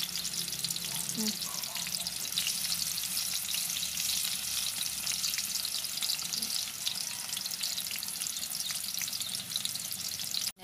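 Green jackfruit pieces sizzle steadily in a hot pan, a constant crackling hiss that stays close and even throughout.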